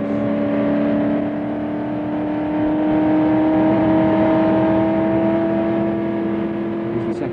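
A racing car accelerates hard along a fast stretch of circuit, its engine a steady rising drone with strong harmonic whine, loud and close, no talk.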